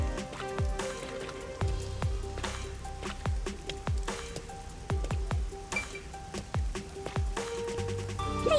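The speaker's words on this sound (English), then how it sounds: "isn't it weird how it's not flooded, given how it's always raining here?" Steady rain patters and drips through the rainy city of the video game Master Detective Archives: Rain Code, with scattered droplet hits and ringing musical tones layered over it, and no talk.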